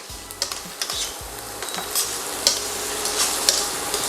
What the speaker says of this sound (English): we're gonna saute those up nicely for about 2 minutes